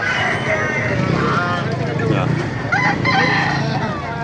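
Roosters crow repeatedly amid a noisy crowd of chattering voices at a market in Baliuag, Bulacan, with clucking fowl, turkeys and busy outdoor commotion underneath.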